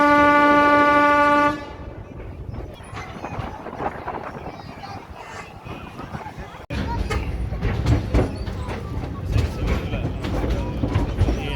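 Diesel locomotive at a railway museum sounds a long, loud, steady horn blast, then it cuts off into rumbling engine and rail noise with talk in the background.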